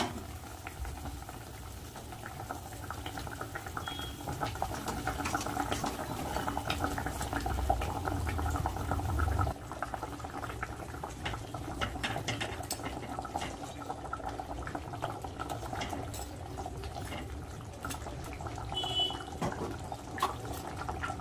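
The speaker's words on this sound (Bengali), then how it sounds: "আমি ঝোলটা ফোটাচ্ছি ঝোল ফুটে এসছে" Fish curry broth with whole catla fish heads bubbles at a steady rolling boil in a pot, a continuous close gurgle that eases slightly partway through, with no voices.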